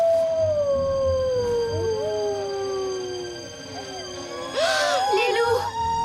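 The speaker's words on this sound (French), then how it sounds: "Les loups! Les loups, fichons le camp d'ici." Wolves howl in a cartoon about a Native American boy in wolf country, long rising and falling howls sustained across the scene, with a burst of overlapping howls near the end over a soft background.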